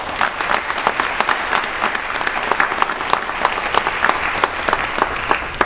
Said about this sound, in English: so let's give them all a round of applause